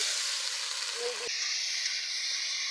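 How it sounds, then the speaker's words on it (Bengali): Cut potatoes drop into a hot pan of turmeric, chilli powder and fried spices over a village clay stove, giving a steady broad sizzle with a brief clatter partway through. "কেটে রাখা আলু দিয়ে দিচ্ছি"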